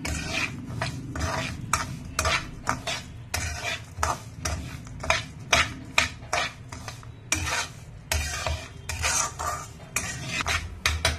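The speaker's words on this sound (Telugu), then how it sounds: "దీన్ని కొంచెం బాగా ఎర్రగా బ్రౌన్ కలర్ వచ్చే వరకు వేపుకుందాం." A spoon scrapes and stirs bansi rava roasting in a pan for kesari, giving rapid, uneven metallic scrapes and clinks. A soft sizzle runs underneath, and no one speaks.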